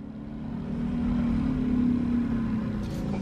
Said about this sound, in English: A Kia just pulled out there, and a lorry with Walker's crisp potatoes on the back of it nearly took it out